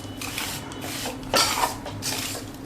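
A spoon scrapes and stirs magad ladoo mixture with dry fruits and raisins in a metal pan, soft irregular scraping and clinking strokes, close and fairly quiet.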